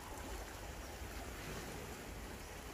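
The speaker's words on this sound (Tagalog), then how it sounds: "Pagising mo sa umaga, yan ang maririnig mo. Yung tunog ng dagat." Sea waves at a Banyan Tree villa on Bintan, Indonesia, wash in as a steady, broadband rush of surf with a soft wind-like hiss, continuous and fairly quiet, with no voices.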